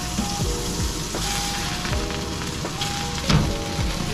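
Striped bass sears in butter in a hot pan with a steady, loud sizzle and crackle, and soft spattering pops and clicks come and go while it is basted close up.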